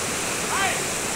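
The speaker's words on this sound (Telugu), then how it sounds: "బ్రిడ్జి కంటే ఎక్కువ వస్తున్నాయి నీళ్ళు" Floodwater rushes over a bridge with a steady, loud roar, while a voice talks briefly underneath.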